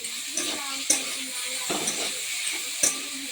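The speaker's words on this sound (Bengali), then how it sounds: "আস্তে আস্তে ভাজা হোক" Food frying slowly in a pan over a lowered gas flame, a steady soft sizzle with occasional clicks and scrapes of utensils against the pan.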